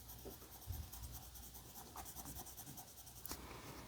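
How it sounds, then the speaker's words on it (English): Colored pencil shading in dark green on paper, filling in a snow pea pod with light pressure: soft, continuous scratchy strokes, close and quiet, with no talking. "I'm going to take my darker green and I'm going to color in the entire inside of the pod"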